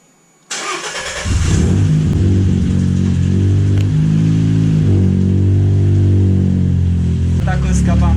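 Car engine with a newly rebuilt exhaust and a single muffler starts after a click and settles into a loud, throaty idle, revving in a few swells, with a voice briefly under the rumble.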